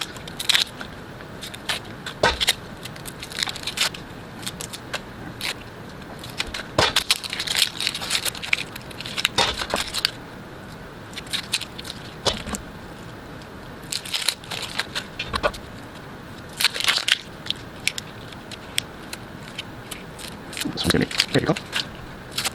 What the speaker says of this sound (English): Gonna peel all the onion now.